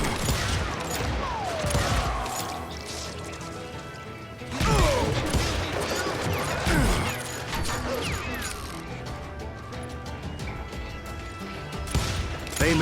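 Rapid gunfire in Call of Juarez: Gunslinger, a Wild West shooter: dense, loud bursts of shots and crashing impacts fill the scene, with a brief lull before another heavy volley and scattered voices shouting beneath.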